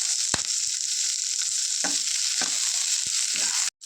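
Onion and three chillies fry in hot oil with a steady, dense sizzle, and a few sharp clatters of stirring cut through it. Near the end the sizzle drops out abruptly for a moment.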